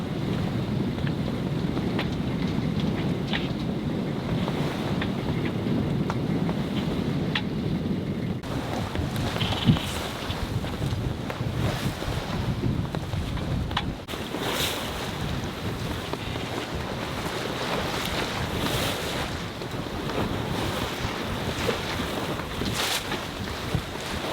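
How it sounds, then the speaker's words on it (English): Strong Papagayo wind off Costa Rica buffets a sailboat in a continuous roar, mixed with rushing water along the hull and occasional rattles on board, loud and steady with no talk. "We were starting to enter the area of Costa Rica which is affected by the Papagayo winds"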